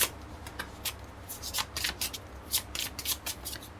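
Tarot cards being shuffled by hand for a final advice card in a reading, a run of quick, close riffling bursts and soft papery rubs repeating steadily with no talk.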